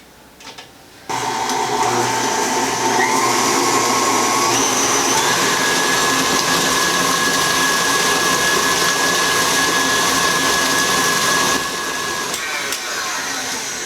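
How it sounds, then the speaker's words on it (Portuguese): An electric mixer beats butter with sugar, starting abruptly after a moment of quiet and then whirring loudly and steadily, with its pitch shifting slightly as the mixture thickens, before winding down near the end. "eu vou bater essa manteiga com açúcar por aproximadamente 40 segundos"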